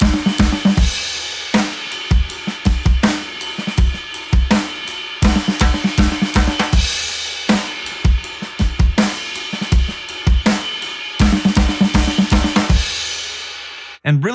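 A drum fill of sextuplet left-hand flams, with the grace note on the ride cymbal and the main stroke split between snare and kick, repeats in loud, dense two-beat bursts, several times in a row with no talking.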